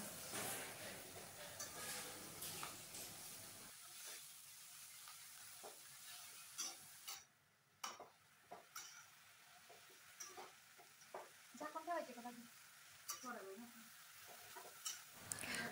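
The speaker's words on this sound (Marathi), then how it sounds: "अशी थोडी थोडी करून चिगळाची भाजी टाकायची आहे आणि त्याला मिक्स करून घ्यायचं आहे" Chigal leafy greens frying in a pan as they are stirred, a soft sizzle broken by scraping and clattering stirring strokes at irregular intervals, close and fairly quiet with no speech.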